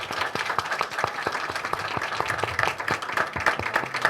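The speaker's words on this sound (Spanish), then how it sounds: "Muchas gracias, un aplauso," An audience at a university literature colloquium applauds steadily, many hands clapping in a dense, continuous patter at moderate volume throughout.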